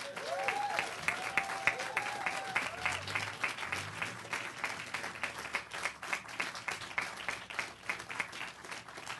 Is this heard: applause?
yes